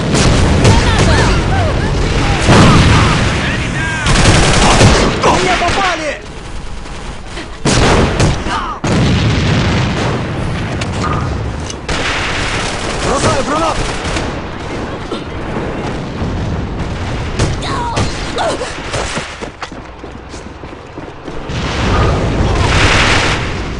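A thrown grenade booms amid heavy gunfire in the online shooter Alliance of Valiant Arms, with dense overlapping rifle bursts and blasts running throughout, loud and close, and occasional speech over the combat.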